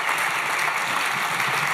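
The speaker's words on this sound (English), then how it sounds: "Please, another round of applause." A conference audience applauds steadily after Steve Wozniak's keynote at the Energy Thought Summit, with a dense, even wash of many hands clapping that continues without a break.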